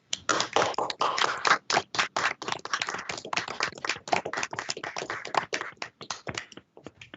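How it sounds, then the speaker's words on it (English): Dense, continuous hand clapping from many people over a video call at a court ceremony for new attorneys, slightly thin and compressed, sustained for several seconds without talk. "please unmute your microphone so we can give a round of applause"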